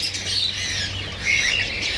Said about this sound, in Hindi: ये हर किस्म के जो है यहाँ पे परिंदे हैं।